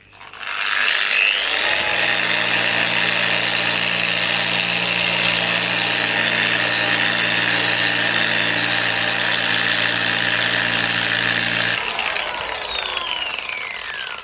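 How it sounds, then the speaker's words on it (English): A power sander sanding a car headlight with an Autoglym headlight restoration kit starts up and runs continuously with a loud, steady high-pitched whine and buzz, then winds down at the end. "so I'm going to start the machine off and just do a little bit of sanding on this."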